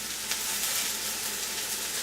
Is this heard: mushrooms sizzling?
yes